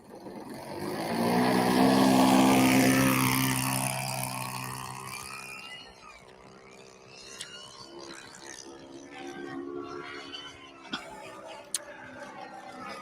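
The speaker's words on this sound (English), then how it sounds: "Let's go ahead and point her into the wind and throttle up and go." An RC model airplane engine runs up loud and high-pitched for takeoff, swelling to a peak, then fading and droning more quietly into the distance, with a few sharp ticks near the end.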